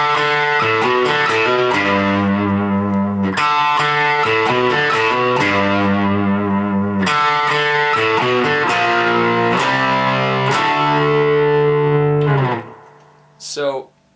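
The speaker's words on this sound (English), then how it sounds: "now we're into the chorus riff here" Distorted electric guitar playing the chorus riff of a song, loud, close and rhythmic with chugging low notes and chords, cutting off abruptly near the end before a brief final strum.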